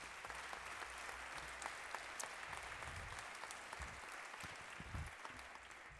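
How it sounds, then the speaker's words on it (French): Audience applause at a French public tribute event, a dense, steady wash of clapping from a large crowd filling the whole stretch at even volume with no voices over it. "Applaudissez-le aussi, s'il vous plaît."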